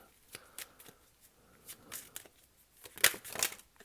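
Tarot cards being shuffled by hand for a reading, giving a series of crisp, riffling bursts that grow denser and louder toward the end, recorded close with no talking.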